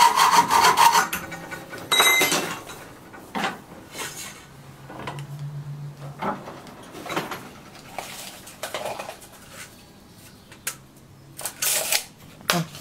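Short copper lengths are cut by hand with a coarse saw blade, making uneven rasping strokes in bursts with pauses between cuts, close and moderately loud.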